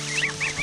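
Baby geese kept in a pen calling loudly from hunger, a brief run of rising and falling honks close by with no one talking.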